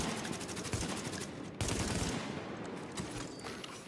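Rapid gunfire from a shooter game, Tom Clancy's The Division, rattling in dense bursts with a brief break, loud and continuous through the stretch.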